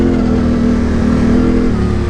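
A Yamaha Tenere motorcycle engine drones and revs steadily while pushing through deep sand, loud and close with a constant mid-pitched hum and no letup.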